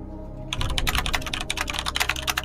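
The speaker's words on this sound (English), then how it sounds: "He's typing a lot of letters." Rapid, dense clatter of keys on a computer keyboard, close and loud, starting abruptly after a brief quiet moment and continuing as a fast burst of typing without speech.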